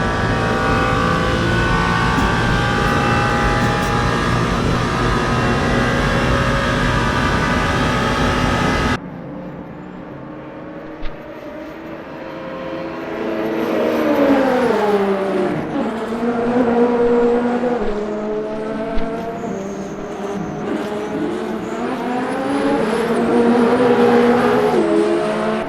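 Race car engines lap in Le Mans Ultimate at the 24 Hours of Le Mans, a steady loud harmonic drone that cuts to a new camera, then several cars pass with rising and falling engine pitch and gear changes.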